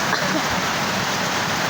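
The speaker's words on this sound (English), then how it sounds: "It's raining, so we're gonna vlog that because I have nothing to do." A rainstorm heard through an opened window: dense, steady hiss of falling rain, loud and constant throughout the short stretch, with no talking.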